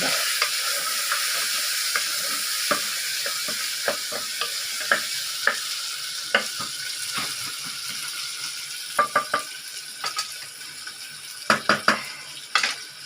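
Onion, green chili and ginger garlic paste sautéing in a pan for egg kurma, with a steady close sizzle and repeated sharp clicks of a spoon stirring against the pan.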